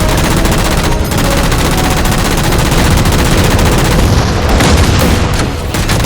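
Dense, continuous gunfire from the Halo 4 video game as jammers are shot down, loud sustained bursts with booming impacts layered throughout, no voices.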